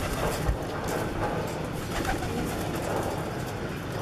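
Pigeon cooing from a newly caught bird, soft and steady against continuous broadband background noise, with faint low coos repeating throughout and no speech.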